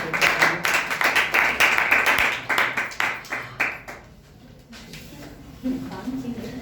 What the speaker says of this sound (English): So learning clap for Divya.